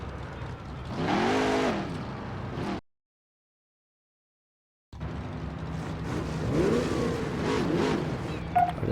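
A yellow truck drives past in the racing game Midnight Club 3 DUB Edition Remix, its engine rising and falling in two loud passes split by a stretch of total silence.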